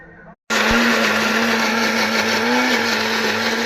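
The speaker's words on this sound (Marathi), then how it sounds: "तर चला हे मिक्सरला वाटून घेऊया।" A kitchen mixer grinder whirs loudly and steadily, grinding peeled tomatoes, chillies, coriander and cumin, starting abruptly after a brief quiet and holding a constant motor whine throughout.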